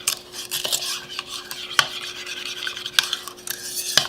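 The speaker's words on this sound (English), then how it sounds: "I'm just going to stir that up, combining our sweetener and our heavy whipping cream" A spoon stirs sweetener and heavy whipping cream in a mug for a keto German chocolate mug cake, producing steady scraping swirls with sharp clinks against the mug's sides every second or so, close and alone.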